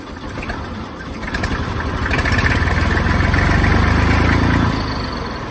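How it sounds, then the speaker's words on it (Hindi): A TAFE 2000 tractor idles nearby with a low, steady engine rumble that swells slightly and then eases, with no talking over it. "ट्रैक्टर का पता नहीं चल रहा कि स्टार्ट भी है, कितना साइलेंस मॉडल है।"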